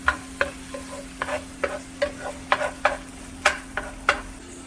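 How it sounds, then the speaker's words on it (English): Minced garlic frying in a pan for poblano shrimp Alfredo pasta is stirred in quick, regular scraping strokes over a soft sizzle and a steady low hum. "And continue stirring because you don't want the garlic to burn as well."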